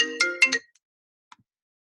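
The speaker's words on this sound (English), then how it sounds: "Got a phone call." Phone ringtone from an incoming call: a short bright melodic chime of several quick tones, fairly loud and close, followed by near silence and one faint blip.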